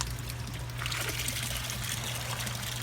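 Water trickles steadily from a 3/4 inch pipe into a homemade koi pond filter, a constant close splashing dribble with a low steady hum beneath it and no voices.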